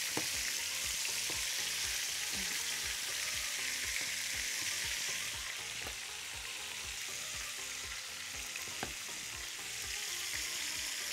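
Chicken frying in hot fat in a pan, a close, steady crackling sizzle with dense popping throughout and no talking.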